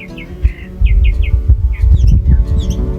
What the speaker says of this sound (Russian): Просто тишина, пение птиц и легкий ветерок.